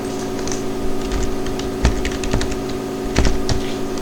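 Keys tapped on a computer keyboard while entering a filename in a Linux terminal, a handful of irregular clicks over a steady electrical hum, close and without speech.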